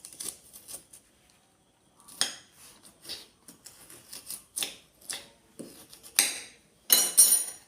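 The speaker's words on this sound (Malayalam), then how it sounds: "ഇതിൽ നിന്നും സ്പൂണ് വെച്ച് ഇതിൻ്റെ ഫ്ലഷ് മുഴുവൻ ഇങ്ങനെ ഇളക്കിയെടുക്കണം." A sharp spoon scrapes the flesh out of cooked drumstick pods in irregular short bursts of scraping and clinking against a dish, close and clear between brief quiet gaps.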